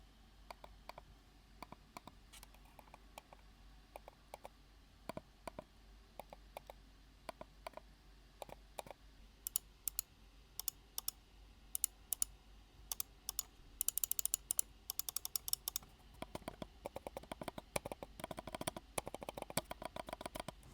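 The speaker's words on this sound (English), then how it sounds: "I will take off my microphone in order for you to hear the quiet click" Quiet clicks from the main buttons of a Logitech MX Master 3S mouse, many sharp light taps in scattered runs that grow denser toward the end, faint and close with no talking.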